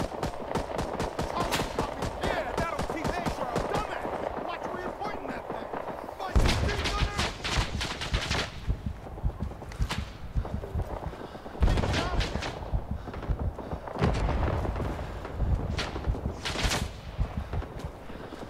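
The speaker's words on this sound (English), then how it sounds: "Enemy fire incoming." Enemy gunfire in Rising Storm 2 at a Vietnam-era firebase: dense, rattling automatic bursts and single shots at mixed distances, almost without a break, with louder close volleys and voices now and then in the battle noise.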